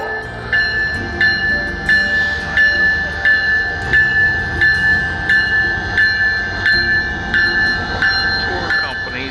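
A train at Denali Park station in Alaska, bound for Fairbanks, sounds its crossing bell in a loud, steady rhythmic ringing over low rumbling rail noise, with a voice speaking in the background.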